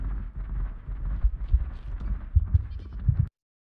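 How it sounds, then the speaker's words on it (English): A goat at a curse crafting station in a video game bleats in a drawn-out, wavering series of calls over low rumbling ambience, fairly close and loud, then cuts to silence. "because we can hear the goat. The goat is the curse station."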